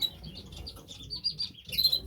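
Canaries from a breeding setup, one a good-sized variegated yellow bird, chirp in short faint high tweets scattered over a quiet room, with a brighter burst of chirps near the end.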